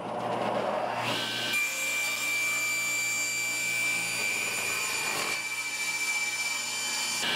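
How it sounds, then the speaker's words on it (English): A table saw blade biting through a 2x4 under load gives a loud, steady whining cut with a harsh wood-rasping edge, rising near the start and easing off toward the end, with no voices. "Okay, now we're going to run our table saw and put it under load by cutting a 2x4."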